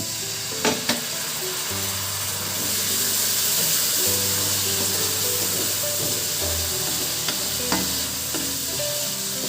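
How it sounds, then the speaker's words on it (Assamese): Chicken masala and spices fry in a pan for a local chicken curry, a steady close sizzle with scraping stirs and a few sharp clinks of the utensil, no voices. "এইখিনি ভাল ধৰণে ভাজি ল'ম মই। মছলাখিনি ভালকৈ ভাজ খাবৰ কাৰণে মই ইয়াতে দিম অলপ পানী।"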